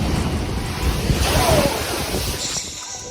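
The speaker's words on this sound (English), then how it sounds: "The ocean this morning came with a surprise twist seafoam exploding like an impromptu beach party" Ocean waves surge onto the shore at Pacifica during a tsunami surge, whipping up seafoam: a loud, continuous roar of surf with heavy wind rumble buffeting the microphone throughout.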